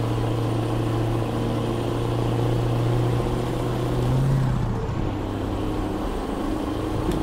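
A Scania truck drives in Euro Truck Simulator 2 with a steady, loud diesel engine drone and a low humming tone that rises slightly in pitch midway.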